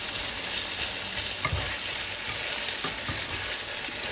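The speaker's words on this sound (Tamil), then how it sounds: "நல்லா வதக்கி விடுங்க." Tomatoes sautéing in hot oil, a steady close sizzle with a couple of brief stirring knocks.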